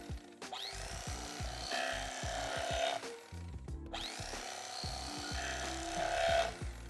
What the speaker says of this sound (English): Now I'm gonna show you how we're gonna carve up the breast.